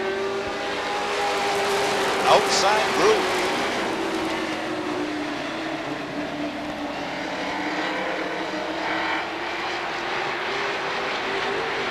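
Super Sportsman division race cars at Beech Ridge Motor Speedway roar steadily around the short oval, a broad sustained engine drone with cars passing on track, under a faint announcer's voice in 1992 weekly racing.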